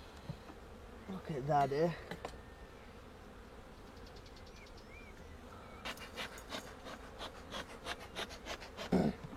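Honeybees buzz at an opened hive with brood comb exposed and smoke in use, a steady faint hum with louder bursts of close buzzing and brief speech over it.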